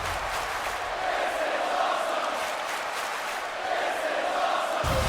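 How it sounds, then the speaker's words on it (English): Arena crowd in a wrestling video game roaring and cheering, a dense steady wall of voices heard from a distance, sustained throughout with no commentary over it. "The crowd can't believe it."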